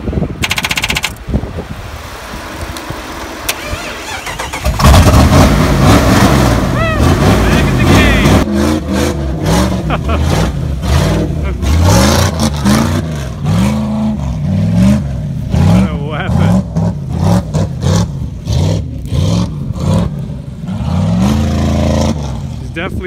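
A loud demolition derby truck engine revs hard and repeatedly, with rapid throttle bursts and a rattling, choppy roar; voices can be heard in the background.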